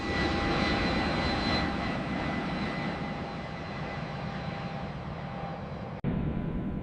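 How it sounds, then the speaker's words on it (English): A Boeing E-4B in flight gives off a steady, loud engine roar with a faint high whine, holding constant for several seconds before a brief sharp cut and a return. "The E-4B is airborne."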